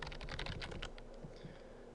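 Typing on a computer keyboard while writing text in Photoshop, a quick run of close key clicks that thins out toward the end.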